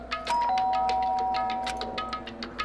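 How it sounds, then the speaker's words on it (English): A doorbell in the Danganronpa video game chimes with a sustained electronic tone, layered over a steady ticking rhythm and game background music, clear and fairly loud with no talking. "pressed the doorbell"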